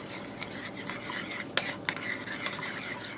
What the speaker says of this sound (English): I'm going to go ahead and stir this up